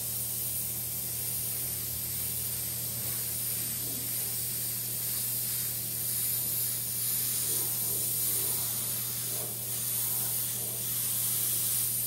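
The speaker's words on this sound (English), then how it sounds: "Then we use the airbrush to kind of just dry that" An airbrush blows a steady stream of air to dry fresh paint on a Harley-Davidson motorcycle while a Jack Daniels logo is being painted, giving a continuous close hiss with no talking.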